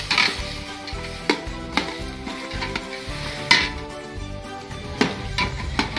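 Pork fries and sizzles in a pot with a steady crackle, broken by sharp clinks and scrapes of a utensil stirring against the metal, close and fairly quiet, with no voices.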